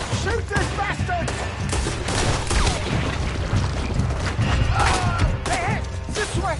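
Gunfire in a Red Dead Redemption 2 gameplay shootout: repeated loud shots and crashing impacts in dense bursts, mixed with shouting voices and game action noise throughout.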